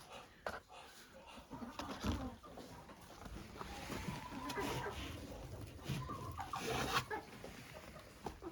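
Chickens clucking and fussing inside a coop, including a black hen, close by and fairly quiet, with a person talking over them.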